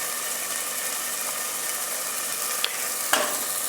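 Chopped green chillies dropped into a sizzling vegetable base in a non-stick pan, a steady even frying hiss with a couple of brief clinks and a small splatter near the end, no voices.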